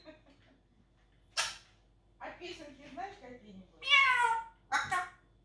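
A person imitating a cat, giving several drawn-out meowing cries in short bursts with quiet gaps between, the voice close and fairly clear.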